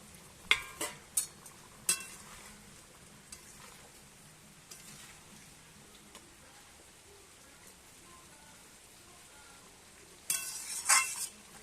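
Pointed gourd (potol) stir-fried in a pan, with faint steady sizzling under a few sharp clatters of a spatula scraping and stirring, busier at the start and end.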